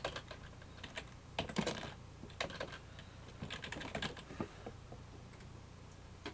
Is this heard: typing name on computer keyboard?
yes